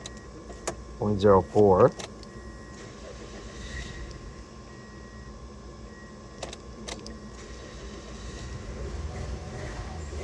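A 2002 Toyota Echo with a starting and stalling fault cranks with a brief whirring burst near the start, then a low steady engine hum carries on through the rest, with a few clicks and a short spoken word.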